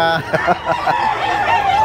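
Chickens clucking at a pet market in Bocaue, loud and close, with a rooster-like crow rising midway and people talking over the busy flock.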